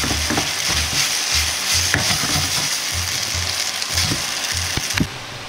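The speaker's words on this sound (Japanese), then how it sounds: "全体に絡まるように炒め混ぜ合わせます。 ここでケチャップを炒めることでまろやかな酸味になります。" Steady loud sizzling from a hot wok as chicken and nuts are stir-fried in ketchup sauce, with utensils scraping and tapping against the wok throughout.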